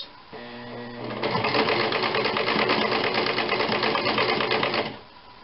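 A sewing machine stitches a nun's veil, a rapid close mechanical chatter that starts softly, speeds up and runs steadily for about four seconds before stopping.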